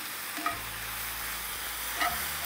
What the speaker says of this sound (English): I love using the spinach as a pan cleaner.